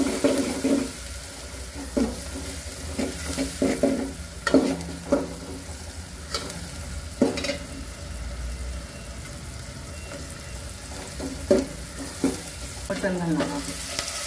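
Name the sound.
sautéing onion masala with turmeric for mutton curry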